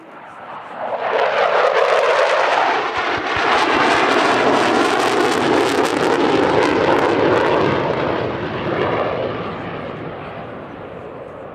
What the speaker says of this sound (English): the FA-50 in the flying display was flown by a Korean pilot